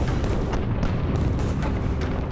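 French cannon and mortar fire bombarding the walled city of Mantua, a dense, continuous rumble of booms and bursts with no pauses.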